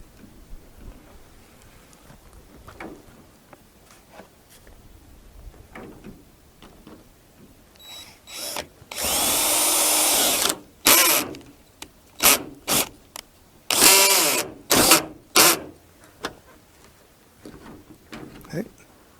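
Loud bursts of a power drill set at 3.5 whirring in short pulses while driving screws to build a log-cabin-style garden shed, one long run followed by several quick spurts, close by after a quiet stretch.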